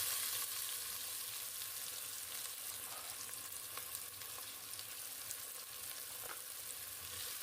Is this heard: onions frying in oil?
yes